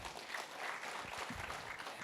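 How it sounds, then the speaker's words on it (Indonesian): Church congregation applauding, a steady two-second wash of hand clapping with a soft, slightly distant quality and no talking over it. "Tepuk tangan dulu untuk Tuhan."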